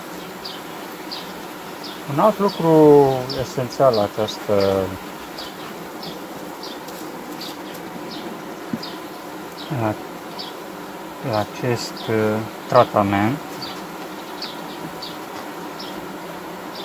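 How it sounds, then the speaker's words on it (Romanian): A honeybee separated from its colony during an amitraz strip treatment gives off high, thin buzzing tones that come and go, while someone talks in Romanian close by in a few short bursts. "Auziți cum plânge albina?"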